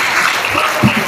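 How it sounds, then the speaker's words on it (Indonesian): Continuous dense applause from an audience at a Qur'an memorization training session in Malang, a brief even wash of clapping with no clear gaps. "Tepuk tangan buat masnya lagi."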